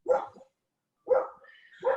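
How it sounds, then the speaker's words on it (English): A dog barks three times, sharp and fairly close, with a short pause after the first bark and a softer whimpering tone trailing before the last. "I hear dog barking."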